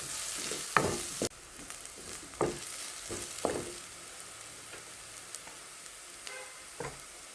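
Curry leaves sizzle in hot oil, a steady bright crackle with sharp spatters and a few spoon scrapes, fairly quiet and close with no talking.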